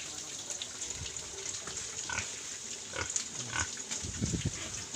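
Native pigs on a Philippine province farm grunting and snuffling as they are fed, soft low grunts at close range scattered over running water and light clatter.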